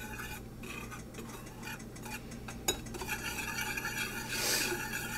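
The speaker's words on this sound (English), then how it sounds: "And then just whisk it all up." A whisk scrapes and clinks steadily against a bowl as flour is mixed with garlic powder and adobo seasoning. The strokes are close and quiet, with no one talking.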